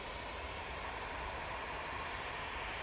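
An easyJet airliner departing Manchester Airport, heard as a faint, steady, distant broadband jet roar with no other distinct sounds.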